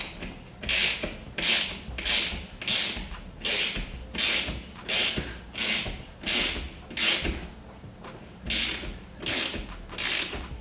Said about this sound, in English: So I'll thread that through with the socket wrench.